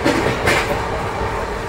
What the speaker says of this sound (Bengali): এটা দেখলে বুঝতে পারবে ট্রেন কত স্পিডে চলছে।